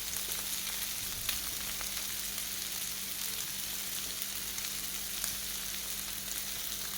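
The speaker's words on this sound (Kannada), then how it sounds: "ಇನ್ನು ಇದು ಸ್ವಲ್ಪ ಹೊತ್ತೇ ಫ್ರೈ ಮಾಡ್ಕೊಳ್ಳೋಣ." Mackerel fish frying in masala sizzles in a continuous, even crackle with faint pops, steady and close throughout.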